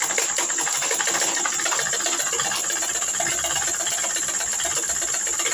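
A sewing machine stitches sack cloth, giving a fast, steady mechanical whirr with a rattling buzz that runs loud and unbroken throughout, close up and with no voices.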